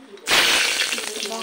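Chillies hit hot oil already spitting with cumin seeds and set off a sudden, loud hiss. The sizzle stays strong and close, crackling steadily once the burst has passed.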